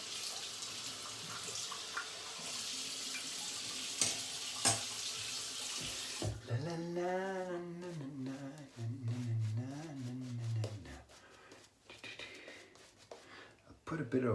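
Water runs from a bathroom tap to wet a dry shaving lather of Kell's Original Arabian Spice soap, a steady broadband rush filling the first six seconds, then giving way to talking with lighter splashes and rinsing.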